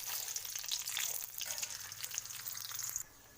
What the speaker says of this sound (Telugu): పోపు దినుసులు వేసానండి